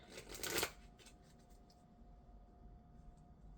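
Oracle cards from the Wisdom of Avalon deck riffled in one brief, dense burst of papery flutter near the start, then a quiet room with a faint steady hum and no talking.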